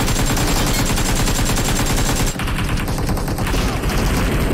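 Continuous AKM rifle fire in PUBG, a dense fusillade of rapid automatic shots filling the whole stretch at steady loudness, with a brief dip partway through.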